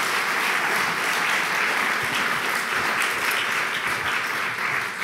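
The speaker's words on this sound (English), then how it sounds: "Please give them a warm round of applause." Warm applause from a conference audience welcoming two panel guests to a climate and health discussion, a dense, steady roar of many clapping hands sustained evenly throughout.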